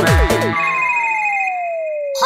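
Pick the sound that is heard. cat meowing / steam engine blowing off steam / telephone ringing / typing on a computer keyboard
telephone ringing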